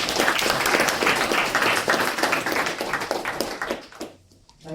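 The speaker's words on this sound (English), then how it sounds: "Let's give an applause to CK." Lecture audience applauding a speaker being introduced at a business school talk, dense loud clapping that carries on steadily before thinning out and fading near the end.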